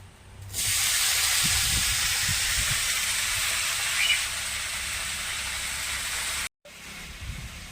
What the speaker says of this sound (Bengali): কড়াতে সরষের তেল দিয়ে দিচ্ছি।